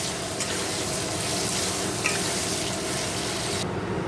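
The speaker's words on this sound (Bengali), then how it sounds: "জল দিয়ে দেবো এবারে" Water poured into a pan of fish and ridge gourd curry, a steady hissing gush with sizzling close up, which cuts off abruptly near the end.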